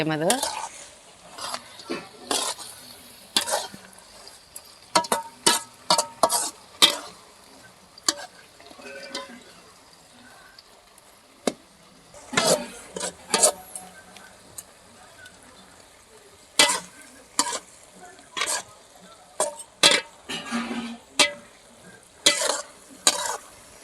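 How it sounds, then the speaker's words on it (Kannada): Palak spinach curry bubbles in a pan while a spoon stirs it, giving clusters of close scraping and clinking strokes over a soft, steady simmer, with quiet gaps between the bursts. "ನೋಡ್ರಿ ಪಲ್ಯ ಎಷ್ಟು ಚೆನ್ನಾಗಿ ಕುದ್ದೈತೆ"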